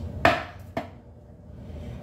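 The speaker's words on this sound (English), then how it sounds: "Finish dicing up all the celery." Two crisp knife chops through celery on a cutting board, a sharp stroke followed by a softer one half a second later, close up and alone.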